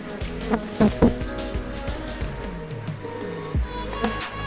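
Stingless bees, yellow uruçu (Melipona mondory), buzz close by at their nest of honey and pollen pots, with several short buzzing bursts and wavering hums over a quiet background.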